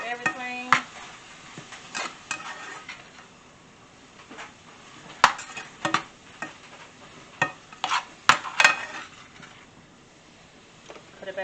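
Cheesesteak meat frying in a pan is stirred with a utensil, giving intermittent scrapes and clinks over a soft, steady sizzle, close by with no talking.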